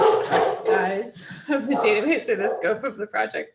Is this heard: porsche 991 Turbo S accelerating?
no